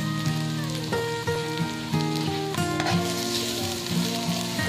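Chopped garlic hits hot oil in a pot for chicken-neck rice porridge, giving a loud, close, continuous crackling sizzle with bursts of popping throughout.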